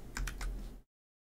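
A few quick keystrokes on a computer keyboard, close and fairly quiet, a short burst that stops abruptly into silence.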